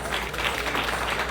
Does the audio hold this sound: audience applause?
yes